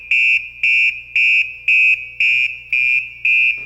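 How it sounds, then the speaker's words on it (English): A PASS motion alarm on a firefighter's breathing apparatus sounds seven loud, shrill electronic beeps in a steady, evenly spaced rhythm, close and alone. "It emits an alarm."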